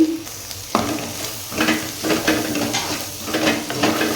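Brinjal and egg fry on high flame in a pan, loud sizzling broken by rhythmic stirring and scraping strokes of a spatula, with no voices.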